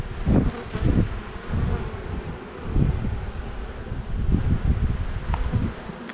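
Honey bees buzz around an open hive full of brood, eggs, pollen and capped honey: a dense, steady drone with soft wind rustle and no voices.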